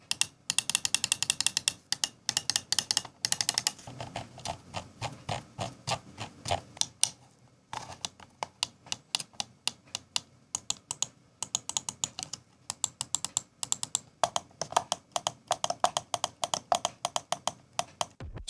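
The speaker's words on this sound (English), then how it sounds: "let's hear click sounds." Alienware AW620M gaming mouse buttons clicked in rapid runs of crisp, close mechanical clicks, steady and dense with a short pause midway, no voice.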